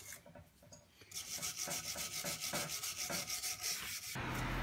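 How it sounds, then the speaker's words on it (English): A wire brush scrubs the surface of a steel propane cylinder being turned into a forge, a harsh scratchy rasp with rhythmic back-and-forth strokes, close and loud, after a quieter start. "So just get into that with a wire brush if you can."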